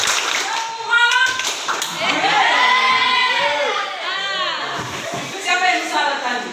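Indonesian high school children play a rhythmic clapping game in a classroom, chanting loudly together while their hands strike in quick patterned bursts. The clapping sits under and between the voices.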